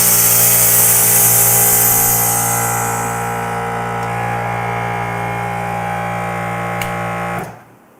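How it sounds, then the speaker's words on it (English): An air compressor for a touring motorcycle's air ride runs with a loud, steady mechanical whine and hum, its pitch settling, then cuts off abruptly near the end. "Let that compressor kick off because it's loud."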